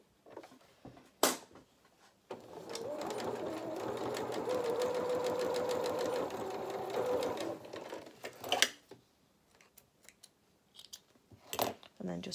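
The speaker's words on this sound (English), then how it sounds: "we're just going to sew those with a quarter of an inch seam" A sewing machine stitches a short quarter-inch seam on a dress bodice, running as a fast, even mechanical whir for several seconds, bracketed by clicks and fabric handling before and after.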